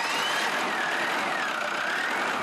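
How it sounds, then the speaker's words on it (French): A family car's engine idling steadily in Tahiti, a continuous close mid-pitched rumble with a faint wavering whine, no voices. "C'est lui aussi qui est chargé de faire démarrer la voiture familiale."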